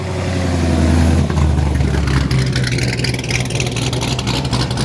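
Cammed Corvette ZR1 engine at a classic car show in Houston, a loud, choppy rumble that rises as the car revs and passes close by, staying strong throughout with crowd noise around it.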